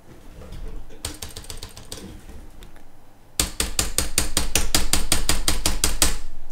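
A computer keyboard's T key is hammered repeatedly: scattered clacks at first, then a fast, loud, steady run of sharp key strikes, close to the microphone, during a German let's-play of the driving game Creepy Driver Parallel Lines.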